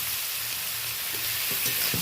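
Spices with salt and turmeric frying in a pan with eggplant, a soft, steady sizzle with a few light stirring scrapes near the end, fairly quiet and without talk.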